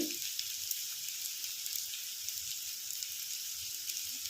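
Dalia (broken wheat) frying in a pan for khichdi, a quiet continuous sizzle with faint crackles and occasional stirring.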